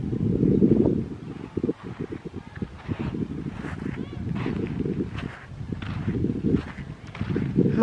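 Steady wind blowing at the seashore as the northeast monsoon sets in, a continuous broadband rush with gusts, heard together with talking throughout.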